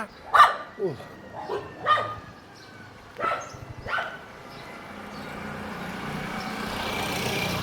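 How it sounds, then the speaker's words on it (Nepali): A dog barks several times in quick, uneven bursts over the first few seconds, then a steady rumble of passing traffic swells underneath, on a roadside in Itahari, Nepal. "कुकुर भुकिरहेको अवस्था।"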